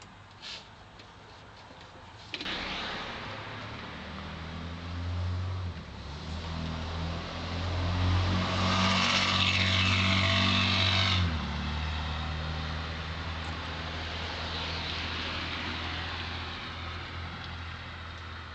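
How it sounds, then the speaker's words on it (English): Vehicles pass by at a distance, a steady engine hum swelling and fading as one goes by, with background traffic noise throughout. "as you're hearing the cars go by in the background"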